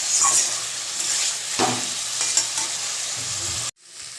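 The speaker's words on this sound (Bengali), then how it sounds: "আমি নুন হলুদ আর পনিরের টুকরোগুলো দিয়ে আমি একই সাথে সুন্দর করে কষিয়ে নেব" Paneer pieces fried with salt and turmeric in oil, with steady close sizzling and bursts of stirring and scraping in the pan that stop abruptly near the end.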